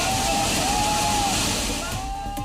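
In the Bhanwad area of Dwarka, a river swollen by heavy rain rushes in a loud, dense, continuous roar of water, easing slightly toward the end, with a voice talking over it.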